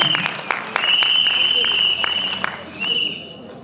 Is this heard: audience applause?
yes